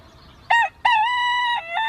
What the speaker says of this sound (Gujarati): બરાબર, આ મરઘીનો અવાજ છે.